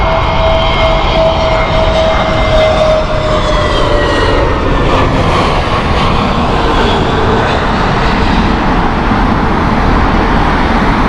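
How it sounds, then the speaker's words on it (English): A loud, steady roar from the engines of an Eva Air Boeing 777-300 arriving from Bangkok at Heathrow fills the whole stretch, with a faint whine drifting in the higher tones. "This is Eva Air 777-300 from Bangkok, 6 years old."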